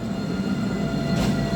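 An East Midlands Railway train rumbles steadily through Nottingham station, a dense, continuous low roar of rolling stock, close and fairly loud, with a brief brighter hiss near the end and no talk.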